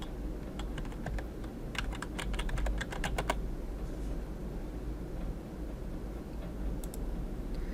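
Keystrokes on a computer keyboard entering a search term into a database search box, a quick burst of clicky taps then a few more, close and fairly clear over a low steady room hum.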